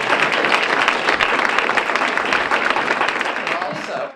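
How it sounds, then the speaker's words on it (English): An audience at a talk on preparing communities for extreme climate change claps steadily for a few seconds, a dense burst of applause that fades out at the end. "You're supposed to applaud that."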